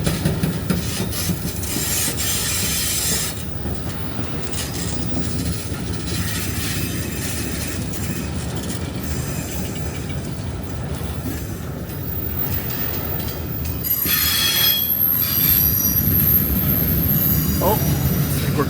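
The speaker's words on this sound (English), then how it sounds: "Can hear the wonderful train noises, the creaks" A CN freight train rolls past slowly, its cars creaking, scraping and rubbing, with thin wheel squeals toward the end and a person talking over it.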